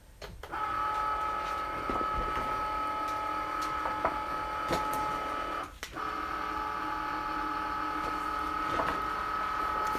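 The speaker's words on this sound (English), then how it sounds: "So now let's go ahead and load regular vinyl here." A Silhouette Cameo 3 cutting machine loading regular vinyl gives a steady, close mechanical whir with sustained motor tones and a few brief clicks, including a short dip midway, with no voices.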